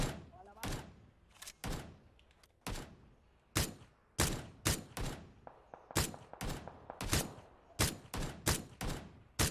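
Gunfire in the battle royale game PUBG on the Erangel map, a series of sharp single shots and short bursts spaced irregularly, loud and punchy against a quieter background.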